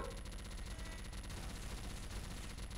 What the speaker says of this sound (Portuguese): Ele tá atirando em mim.